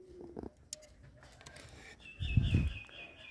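Giribaz pigeons in a loft give sparse, scattered calls and small rustles, then a fuller, louder low cooing burst near the end, fairly close and mostly quiet between sounds.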